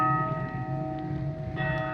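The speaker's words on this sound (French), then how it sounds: "On sonne les cloches carrément." Church bells ring in the video game Hunt: Showdown, a sustained, steady bell tone carrying through the whole stretch with no talk over it.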